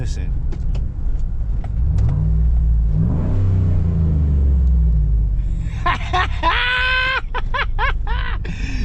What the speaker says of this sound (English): I'm gonna put it in neutral and give it a quick rev